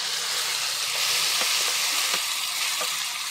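Spice paste frying in hot oil with cumin seeds for a pumpkin dish, a steady loud sizzle that runs throughout, with a few brief scraping stirs cutting through.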